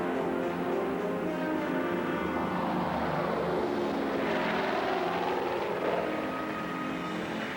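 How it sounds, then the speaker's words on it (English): A de Havilland Caribou propeller aircraft takes off from Thule, its engines roaring loud and steady throughout, with the tone rising and shifting as the plane gathers speed. "Darrell and the others take off from Thule."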